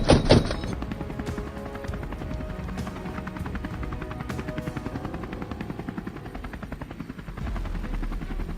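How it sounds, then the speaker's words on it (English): A helicopter lowering over a vast open field beats out a loud, steady rapid rotor chop that continues without a break, with a brief harsher burst at the start. "The helicopter gradually lowers over a vast field."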